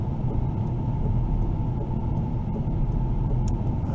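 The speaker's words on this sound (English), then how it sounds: "So we got a lot of traffic this way." Steady, close road traffic rumbles continuously as cars drive by on a heavily traveled road, a dense low drone with no pauses.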